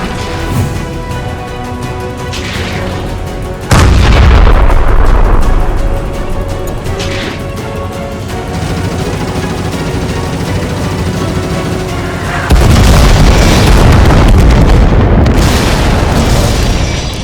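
Cartoon tank cannons fire with heavy booming blasts and rolling explosions, two especially loud bursts standing out among the continuous rumble, with no talking.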